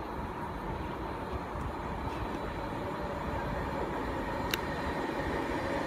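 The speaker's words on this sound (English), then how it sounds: "Coming in into class 390 Virgin West Coast service through to London Euston only" A Class 390 Virgin West Coast train rumbles into Milton Keynes Central station with a broad, steady low roar and a brief high squeal partway through.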